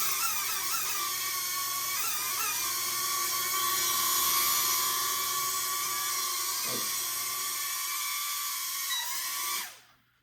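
A Loolinn U61 mini drone hovers close by with a steady high-pitched propeller whine and buzzing, shifting pitch slightly as it comes down to land in a hand, then cutting off abruptly near the end.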